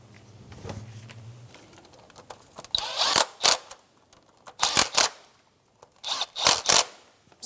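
Valve cover bolts being snugged down on a 2003-2007 Infiniti G35: a faint low hum, then three bursts of close, buzzing power-tool or ratchet whirring, each lasting under a second, separated by short pauses.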